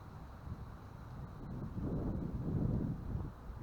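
Low, buffeting wind rumbles against the microphone in soft gusts that swell and fade, with a few faint clicks.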